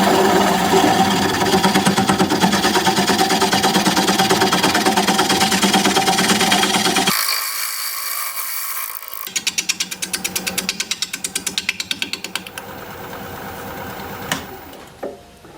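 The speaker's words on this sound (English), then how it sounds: "Okay, I'm gonna go sharpen up." Steady whirring grind of a woodturning tool being sharpened on a bench grinder, loud and continuous, then a quieter stretch with a rapid mechanical chatter and brief pauses.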